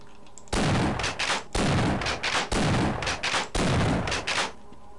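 Four loud shotgun blasts in Half-Life, evenly spaced about a second apart, each a sharp booming report followed by brief mechanical clatter.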